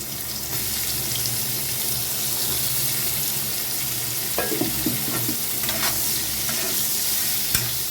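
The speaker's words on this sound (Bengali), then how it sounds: "এই যে করলাটা কেটে রেখেছিলাম সেই করলাটাকেও আমি একটু ভেজে নেবো" Bitter gourd slices fry in hot oil with a steady, dense sizzle throughout, broken by a few utensil clinks and stirring scrapes midway and near the end.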